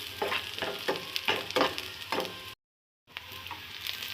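Green chillies tossed into browned onions frying in a pan for thakkali thokku, a tomato relish, give a steady close sizzle broken by rhythmic stirring scrapes, then a brief total silence before the frying resumes.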